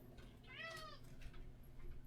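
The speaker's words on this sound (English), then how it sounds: "the other cat's pretty much throwing a tantrum out in the hallway" A cat meows loudly in a hallway, one drawn-out complaining yowl with a few fainter cries after it, heard alone against quiet background.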